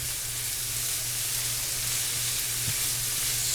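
Beef and vegetables stir-frying in a hot pan give a steady, dense sizzle and hiss throughout, close and even, with a low hum beneath and no talking.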